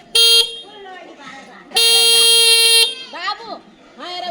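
Loud vehicle horn blasts on a mountain road trip from Nepal's hills toward the Terai: one short honk, then a long sustained blare, with voices shouting and talking between the blasts.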